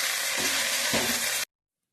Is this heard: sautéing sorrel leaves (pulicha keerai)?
yes